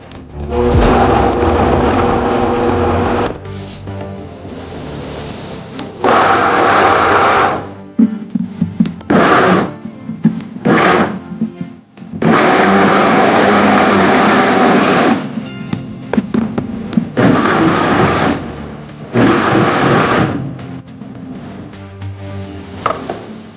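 A blender chops quartered onion and vegetables for smoked salsa, running in loud whirring bursts of several seconds each, broken by short pauses and quick pulses.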